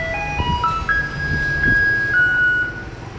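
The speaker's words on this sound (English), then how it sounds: "in Taiwan, the garbage trucks sound like ice cream trucks." A garbage truck on a street in Taiwan plays an ice cream truck melody, a bright electronic tune of clear sustained notes over low traffic rumble, close and fairly loud.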